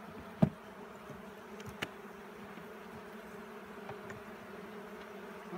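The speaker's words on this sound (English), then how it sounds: "It appears that we do have some bees in here." Bees buzz faintly inside a hive box being inspected frame by frame, a steady low hum with a couple of brief knocks from the woodwork near the start.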